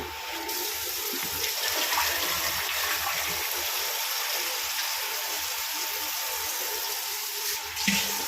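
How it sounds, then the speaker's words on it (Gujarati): Steady running water pours continuously, a broad even hiss without pauses, close by and fairly loud, like a vessel being filled from a tap. "તો આપણે પાણી ભરીએ બરાબર"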